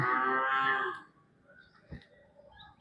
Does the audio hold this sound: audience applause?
no